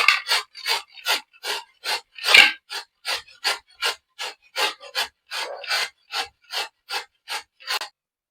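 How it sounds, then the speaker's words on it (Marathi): Bottle gourd rubbed against a large coarse grater in rapid, regular rasping strokes, about two per second, close and loud with no talking. "मी हा हा भोपळा आपल्याला किसून घ्यायचा आहे"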